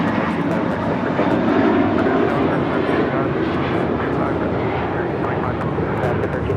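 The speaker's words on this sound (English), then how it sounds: "Got that Delta flight heading to Seattle, 1714." A Delta airliner departs LAX for Seattle with a loud, sustained jet engine roar close by, while a person talks over it.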